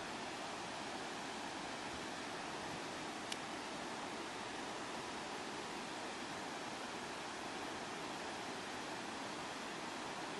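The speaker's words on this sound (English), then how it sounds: "You know it's going to be a big waterfall when you see things like this." A large waterfall rushes in a dense, unbroken roar, steady and loud from start to finish with no voices over it.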